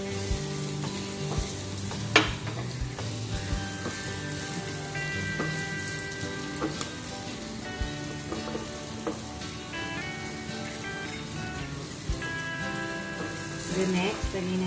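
Onions sizzling and frying steadily in a pan as the first step of a tuna pasta, with a continuous crackling hiss and occasional stirring scrapes, close and fairly even throughout.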